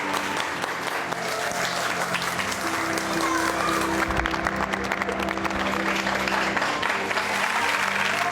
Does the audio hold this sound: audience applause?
yes